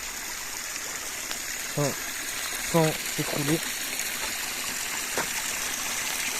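A forest stream in the Pyrenees flows steadily nearby, a constant broad hiss of running water, with a few brief spoken words over it.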